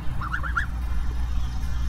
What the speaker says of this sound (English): He's starting to get his big boy goose voice,